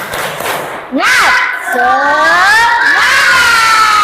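Primary-school class in an Islamic-studies lesson joins in a loud, spirited group chant, many young voices rising and falling together in a few drawn-out calls, close and filling the room.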